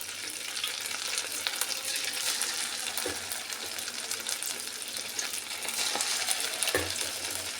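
Idli batter bondas deep frying in hot oil, a steady dense sizzle and crackle close up, with a few small clinks, no talking.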